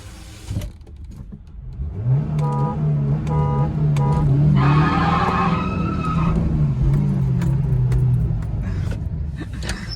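Corolla Altis and Honda City cars launching in a drag race, engines revving and accelerating hard with tire noise, rising loud and close for several seconds before fading slightly.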